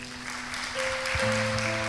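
A church congregation claps together in steady, continuous applause, while sustained keyboard-like tones ring underneath and the sound swells slightly partway through.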